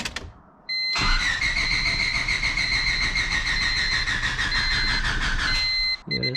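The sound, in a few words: Honda Civic EK D16 engine starting up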